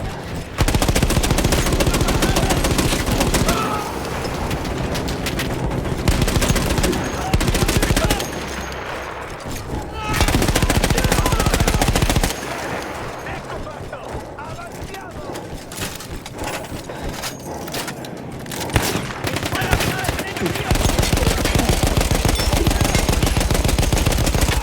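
Machine gun fire in Battlefield 1, a heavy gun manned by Austro-Hungarian troops, with long loud sustained bursts broken by brief pauses and quieter stretches, voices talking over parts of the firing.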